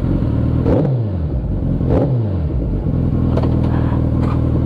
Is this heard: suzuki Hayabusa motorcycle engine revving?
yes